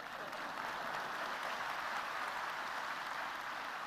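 Audience applause at an MP Invest event, a dense, even wash of many hands clapping from a sizable crowd. It holds at a steady level from start to finish with no pauses and no voices.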